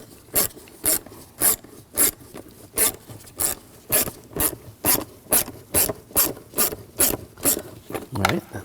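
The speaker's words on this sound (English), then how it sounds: "Use a 6mm socket." A ratchet turning a 6mm socket clicks in a steady series of about fifteen sharp, evenly spaced bursts while loosening a hose clamp on a 2007-2013 BMW 328i 3.0L engine, close and fairly loud.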